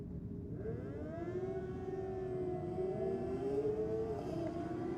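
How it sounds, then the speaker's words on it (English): A Kawasaki motorcycle launches down a drag strip at Sydney Dragway, its engine a loud, sustained whine that climbs and sweeps upward in pitch across the whole run, with no talking. "It looks like Kawasaki taking off in the rocket lane."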